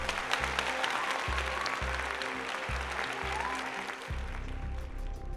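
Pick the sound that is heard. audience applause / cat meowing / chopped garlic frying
audience applause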